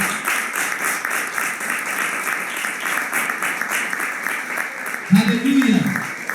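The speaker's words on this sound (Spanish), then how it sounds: "Denle un aplauso al Señor." A church congregation applauds in a steady, continuous round, with a voice speaking over it near the end.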